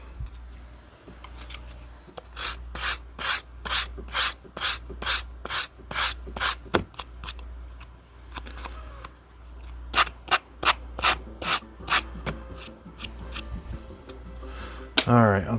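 A blade is drawn hard through bookbinding board, giving a rapid run of close, sharp rasping strokes in quick bursts, pausing briefly, then resuming before a final louder scrape.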